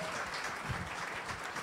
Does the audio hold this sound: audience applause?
yes